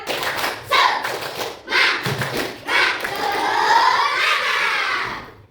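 A primary school class doing a rhythmic tepuk semangat clap routine, groups of sharp unison claps with brief pauses, followed by a longer stretch of children clapping and chanting together, fairly close and loud.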